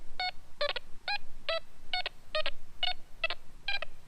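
A Quest Q40 metal detector sweeping over a .69 caliber Civil War minie ball gives a rhythmic series of sharp electronic beeps, roughly two per second, close and clear with no talk.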